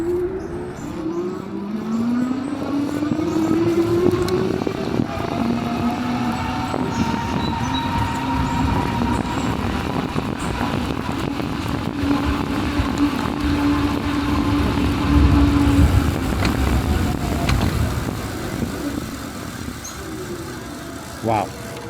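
A Segway Myon e-bike at top speed, with a rising motor whine that settles into a steady hum over rushing wind, near and loud throughout.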